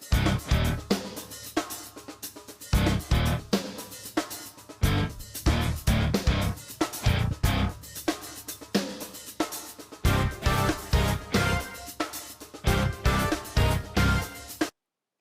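Programmed drum part for the intro of a track: fast, dense kick, snare and cymbal hits in busy, driving bursts, loud and close, with no voices.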